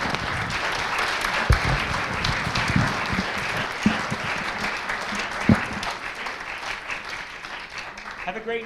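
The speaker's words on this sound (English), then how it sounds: "Let's give them another round of applause." An audience applauds after a Christmas concert by high school choral groups, sustained clapping filling the room for several seconds with a few louder claps standing out and voices faintly mixed in.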